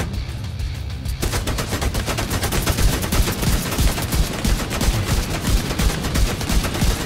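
Sustained automatic gunfire in the video game The Division 2, a rapid stream of sharp shots starting after a short quieter lead-in and continuing densely to the end.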